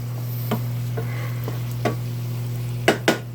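Ground hamburger meat fries in a pan with a steady greasy sizzle, broken by a few soft scrapes of a spoon stirring it and two sharper knocks near the end; no one speaks.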